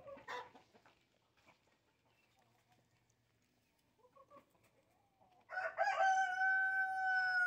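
Free-range chickens and a rooster on a farm in the Philippines: soft clucks and scattered bird sounds first, then a loud, close rooster crow to finish.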